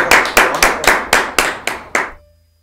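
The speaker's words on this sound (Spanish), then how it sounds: "un aplauso" Eight sharp, evenly spaced hand claps from a small studio group celebrating a newborn girl, close and loud, each one decaying before the next and stopping after about two seconds.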